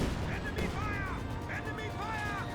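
Mortar shells landing in Company of Heroes 2, a few distant thumping impacts and crashes under steady battle noise and a talking voice.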